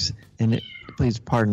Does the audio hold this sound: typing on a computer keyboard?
no